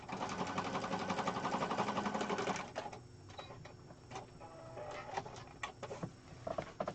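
A sewing machine stitches paper scraps for a junk journal with a fast, even mechanical whir for about three seconds, then stops. Softer handling clicks and rustles follow.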